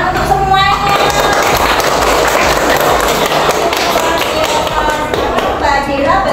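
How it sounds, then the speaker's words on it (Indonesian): Dense audience clapping fills a room at a school teachers' showcase event and stays loud and continuous throughout, with voices mixed into the crowd. "tepuk tangan untuk semuanya"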